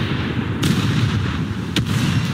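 Naval guns fire at the German light cruiser Leipzig during a War Thunder naval battle. A steady low rumble of the ship runs throughout, broken by two sharp, booming impacts about a second apart.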